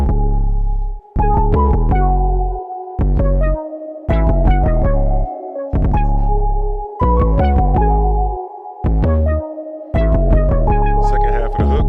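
A hip-hop beat's hook loops with a deep 808 bass line added under it. Punchy, rhythmic bursts of notes and drums stop and restart in repeating bars at a moderate, even pace.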